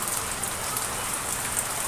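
Steady rain pours down outside a house gate in a flooded street, a dense, even hiss of falling water with no break.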